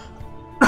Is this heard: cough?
yes